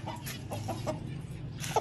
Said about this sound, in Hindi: यार मुर्गी को यहाँ पर ही बंद करें